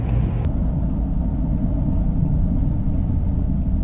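A car rolls along the road toward a Texas dealership, a steady low rumble of engine and tires heard from inside, with one brief click at the start.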